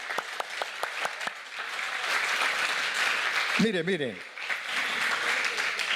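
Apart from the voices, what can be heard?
congregation clapping hands in praise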